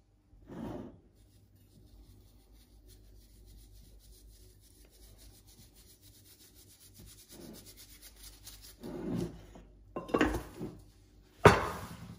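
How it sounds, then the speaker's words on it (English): Hands rub salt and pepper into raw short ribs, giving soft scrubbing and rubbing sounds in short bursts with quiet gaps between them, close up, and nobody talks. "Just want to rub that in. You want to rub your meat together."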